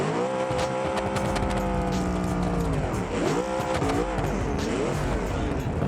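A car drifting in the BeamNG racing game, its engine droning steadily with pitch sweeping up and down while tires squeal through long slides, loud and continuous with no talking.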